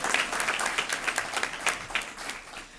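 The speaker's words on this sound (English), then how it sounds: "round of applause for that" An audience bursts into applause at a Women's History Month celebration, a dense, lively round of many hands clapping that swells early and gradually tapers off near the end.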